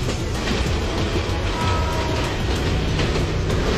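A train in Bangladesh rolls steadily along the tracks, a continuous loud rumble with faint rhythmic clacking from the wheels.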